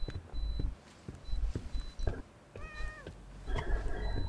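A cat in the video game The Medium gives a drawn-out meow in the middle, set among soft footsteps and game ambience with brief tonal cues.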